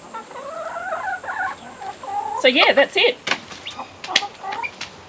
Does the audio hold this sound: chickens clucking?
yes